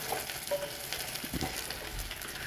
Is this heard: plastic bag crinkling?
no